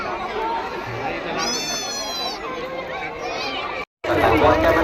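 Large outdoor crowd at the Mhasa fair in Maharashtra on a Sunday, a dense steady hubbub of many voices chattering close around, with brief clearer voices rising out of the babble and one abrupt short cut-out near the end.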